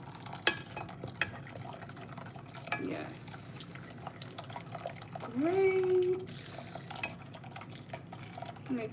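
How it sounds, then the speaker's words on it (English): Cornmeal African porridge being stirred in a pot as water is poured in, with soft scraping and liquid sloshing running steadily beneath a speaking voice, plus a brief tonal pour sound in the middle. "I'm gonna prevent lumps in our porridge, so gently mixing as we pour in the water."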